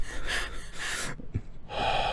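Heavy, gasping breaths from a character in the summer camp horror game Pinewood Valley, several loud, close inhales and exhales with brief pauses between them.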